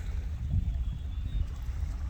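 Gentle water laps and recedes along the Salish Sea shoreline at night, a soft continuous low wash with faint rhythmic swells, fairly quiet and without voices.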